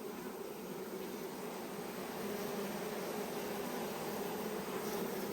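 Honey bees hum around an opened hive during an inspection, a faint, steady buzzing drone with no talk.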